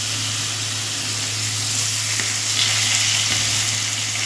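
Boiled vegetables fry in a pan with cumin powder, pepper, soy sauce and vinegar, giving a loud, steady sizzle, with a low hum underneath and occasional soft scrapes of stirring.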